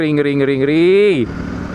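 A motorcycle engine revs hard and steady while climbing a winding road through the Semeru forest, then the pitch drops sharply as the throttle eases, leaving a rougher low rumble.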